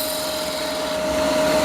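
A skew chisel cuts wood on a lathe, giving a steady, continuous whirring scrape with no breaks that grows slightly louder toward the end.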